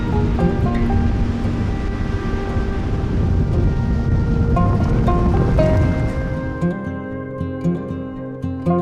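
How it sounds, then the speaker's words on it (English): Strong wind roars steadily across a coastline on the Isle of Man, buffeting the microphone with loud, continuous rushing noise that eases slightly toward the end. "So windy down here."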